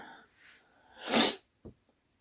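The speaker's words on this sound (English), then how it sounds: "as you can probably hear from my sneezing." A single loud sneeze, preceded by a quick breathy inhale and followed by a short sniff, close to the listener.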